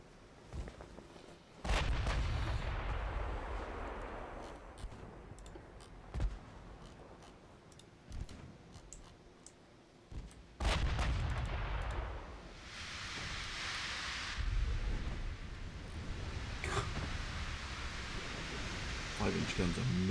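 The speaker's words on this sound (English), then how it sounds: "6-inch guns are murderous." Heavy 6-inch naval guns fire in a 1930s British naval strategy game, with sharp booming reports at irregular intervals over a constant rumbling battle din, some shots loud and near, others more distant.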